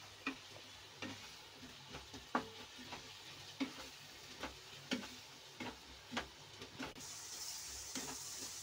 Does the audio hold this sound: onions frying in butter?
yes